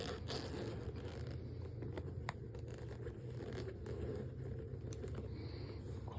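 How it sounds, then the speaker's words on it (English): A zipper runs along the case of an Apex Forge M8 8-volt cordless rotary tool in a string of quick, close, quiet rasping pulls. "Quality zipper."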